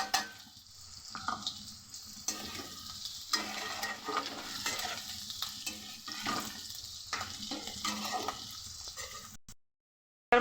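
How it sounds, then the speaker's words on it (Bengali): Potatoes and onions frying in a pan give a steady close sizzle, broken by repeated stirring scrapes across about ten seconds, with no talking, before the sound cuts out. "আলু আর পেঁয়াজটা একদম ভাজা হয়ে গেছে"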